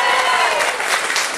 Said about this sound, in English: If you believe Willie Lee is telling the truth, round of applause now, please.